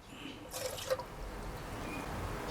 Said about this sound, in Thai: ให้เราเตรียมน้ำสะอาดนะครับ น้ำเปล่า อุณหภูมิห้องธรรมดาครับ 120 ml ใส่ลงไปก่อน